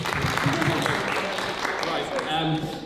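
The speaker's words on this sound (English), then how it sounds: "we should give everyone a round of applause, shouldn't we?" Studio audience at a science and maths game show claps together in a steady, dense wash of applause lasting the whole moment, with a voice faintly audible underneath.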